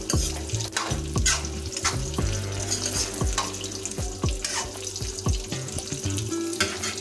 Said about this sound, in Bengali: এখন এটাকে আরও মিনিট 7 ধরে কষিয়ে নেব।